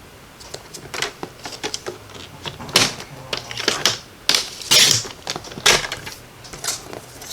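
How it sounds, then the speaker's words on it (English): Paper trimmer cutting cardstock in half for a Christmas card, heard as a series of sharp clicks and scraping taps at an uneven pace, close and fairly loud, with no talk. "So we're just going to cut this in half at 1."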